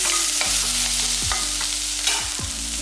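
Two handfuls of onions sauté in a pan for a mutton intestine curry, giving a steady sizzle broken by repeated scraping strokes of a spoon stirring through them.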